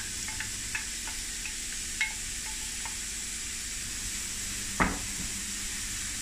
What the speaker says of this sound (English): I'm going to just fry it quickly in the pan